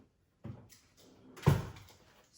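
An oven door opens and then shuts with a solid thud as a tray of chicken cordon bleu goes in, two close, short sounds in an otherwise quiet kitchen.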